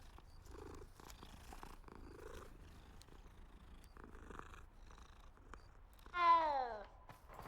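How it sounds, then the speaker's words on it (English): In the video game Hogwarts Legacy, a cat purrs softly and continuously at close range, then gives one clear meow near the end, with faint background game sounds. "cat."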